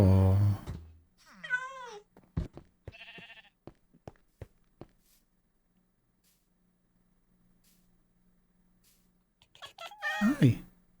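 Cats in Minecraft meow several times at mid-range amid short clicks and game sounds, with a pause before a louder, closer meow at the end; a voice is heard briefly at the start.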